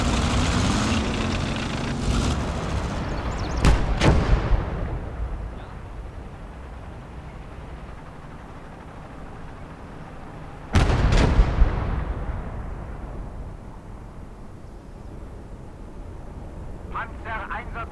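In the video game Gates of Hell: Liberation, enemy artillery fires twice, each a sharp, heavy boom with a long rumbling tail, the second louder. Game battle ambience runs beneath, and a voice calls out.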